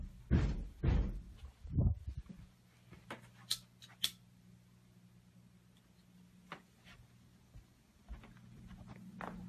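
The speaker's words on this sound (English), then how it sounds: "I'm just gonna sit here and bang on the door all day long." Sharp knocks and bangs on a door, a few loud hits at the start followed by quieter scattered thumps over a low steady hum.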